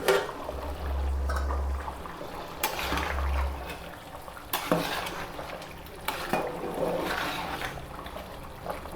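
A spoon stirs rice boiling for chicken biryani in a metal pot, with scraping, clinks against the rim and a few sharp knocks over a soft bubbling bed.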